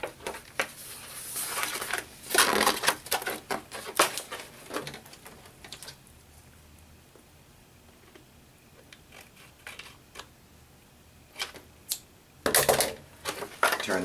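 Scissors snipping through a laminate sheet on a library paperback book, a quick cluster of close crisp cuts, then a pause and more scattered snips, with no talking.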